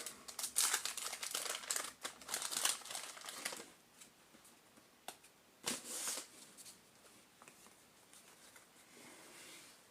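Packs of 1992 O-Pee-Chee baseball cards being torn open and handled, with a burst of crisp crinkling and shuffling in the first few seconds, then sparser, fainter rustles and flicks at close range.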